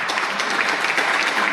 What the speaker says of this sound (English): A big round of applause for Guy Jopling